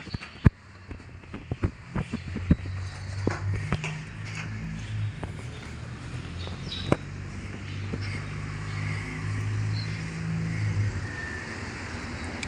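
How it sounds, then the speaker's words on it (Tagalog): A car passes on a street, a low steady rumble rising and fading in the background, with scattered clicks and taps over it. "Yung kotse."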